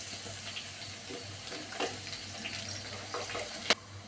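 Garlic frying in a pan on low heat for a Karnataka-style paper avalakki recipe, a soft steady sizzle with occasional sharper crackles and clinks of stirring, fairly close and moderate in level.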